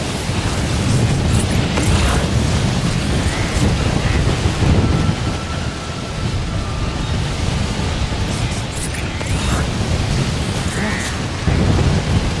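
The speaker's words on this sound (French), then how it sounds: "J'espère que la tempête va se calmer." A thunderstorm in the video game Death Stranding roars as a loud, dense wash of wind and rain with low rumbling throughout, dipping slightly midway before surging again.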